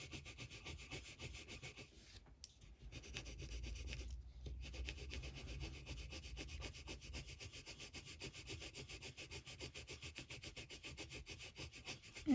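Coloured pencil burnishing on paper makes a faint, rapid back-and-forth rubbing scratch in a steady rhythm, close and quiet, with a couple of brief pauses between strokes.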